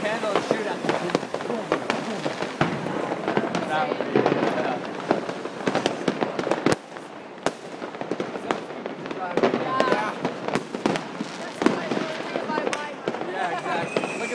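Roman candles and other New Year's fireworks going off in the Netherlands, heard as a dense, continuous crackle of pops and bursts at close to middle distance, with people talking over it.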